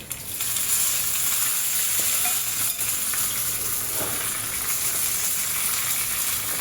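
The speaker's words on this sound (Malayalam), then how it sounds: "കടുക് പൊട്ടിയതിന് ശേഷം കറിവേപ്പിലയും ഉണക്കമുളകും ഇട്ടു." Curry leaves and dried chilies sizzle in hot oil after mustard seeds have spluttered, a tempering for Kerala tapioca puzhukku; a loud, close, continuous frying hiss with occasional small pops and no voices.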